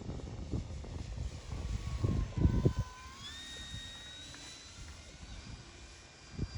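An E-Flite Turbo Timber Evolution RC plane flies at half throttle, its electric motor giving a thin, distant whine that rises and shifts in pitch, with wind rumble and handling noise nearby at first.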